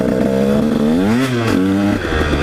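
A 150 SX motorcycle engine hums steadily as the bike rides along at a relaxed pace, with strong harmonic drone that dips and rises once mid-way as the throttle eases and returns, loud and close with no talking.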